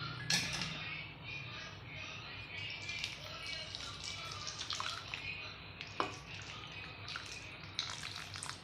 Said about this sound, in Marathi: आणि आपण आत्ता सोडणार गरम केलेलं पाणी।